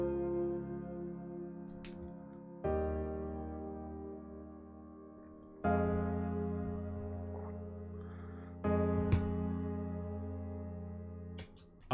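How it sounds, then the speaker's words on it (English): Soft cinematic piano chords from Omnisphere ring out one after another, four sustained chords struck every few seconds and left to decay gently, quiet and unprocessed, with no voices. "I believe this is the cinematic piano in Omnisphere"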